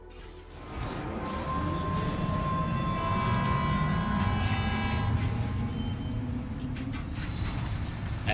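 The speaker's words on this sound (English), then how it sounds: "we're gonna get on the monorail as well" A monorail train in the video game Death Stranding 2 rumbles along steadily, close and loud, with a long horn-like tone and mechanical clanks over the rolling drone, and no speech.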